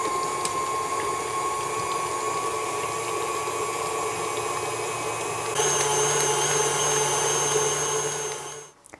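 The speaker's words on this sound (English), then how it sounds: "with the beaters running, you're going to add half a cup of room temperature cream" Electric hand mixer beaters whipping vanilla cream frosting for a keto Italian cream cake, a steady close motor whine that shifts slightly in pitch partway through and runs continuously before cutting off at the end.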